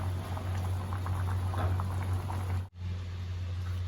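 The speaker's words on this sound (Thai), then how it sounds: "เดือดแล้วเนาะ" Pot of fermented bamboo shoot soup at a rolling boil, continuous bubbling and popping over a low steady hum, with a brief dropout near the end.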